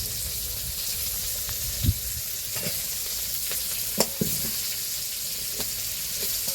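Chillies, onion, nigella, panch phoron and radhuni spices fry in hot oil in a kadai, with a steady loud sizzle throughout and a few faint stirring knocks over it.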